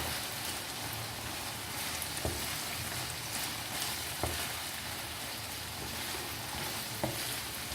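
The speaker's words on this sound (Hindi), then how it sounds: "फ्लेम हम कर देंगे हाई और डालेंगे इसके अंदर ये जो टमाटर प्यूरी बनाई थी वो डालेंगे" Tomato puree sizzling in keema on a tawa over high flame, a dense, even crackling fry with a few sharp stirring knocks, steady and close without speech.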